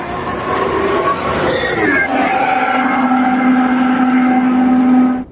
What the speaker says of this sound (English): The first audio recordings of the new Audi power unit have also emerged